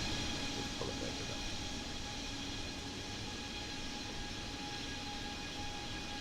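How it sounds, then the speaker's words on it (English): Steady, loud roar of an A32NX airliner's jet engines in MS Flight Simulator, a continuous broadband rush with faint tonal whine, constant in level with no voices. "Seems as though this engine noise is quite loud, isn't it?"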